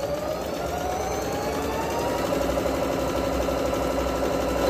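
A Singer Pitline 6700 sewing machine running a simple straight stitch, a close, steady mechanical whir with a fast rhythmic motor hum and light clatter that continues evenly throughout, with no speech.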